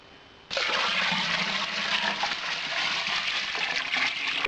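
Water gushes steadily into a Robo Brew all-grain brewing system, starting abruptly and continuing as a loud, even rush with no talk over it.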